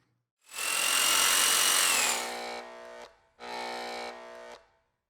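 A WEN 6502 benchtop belt and disc sander runs loudly with a harsh, whining mechanical noise, spinning up and winding down, then starting again for a shorter burst before stopping.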